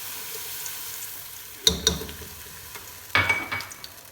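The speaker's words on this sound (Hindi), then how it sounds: "अब इसकी हमने 1 से 2 मिनट अच्छी तरह से करनी है भुनाई" Garlic-ginger paste fries in about half a cup of oil in a pan, with a quiet sizzle broken by two bursts of louder spatter and stirring scrapes.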